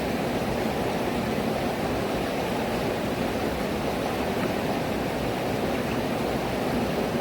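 Steady, full rush of forest stream water flowing at a bathing spot in the Riverston woods, a constant broadband wash with no pauses, close and fairly loud.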